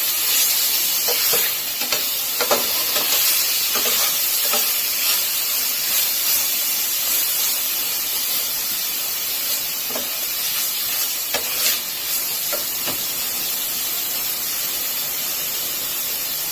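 Vegetables with garlic and ginger are stir-fried in a pan, giving a loud, steady hissing sizzle with bursts of steam. Irregular scraping and clinking from stirring sound close throughout.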